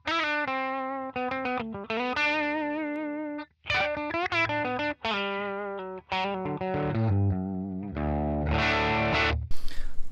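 Epiphone Les Paul 50s Standard with pro bucker pickups, played on the bridge pickup with slight breakup: full, somewhat honky sustained notes and short bends, then chords near the end, close and alone with no talk.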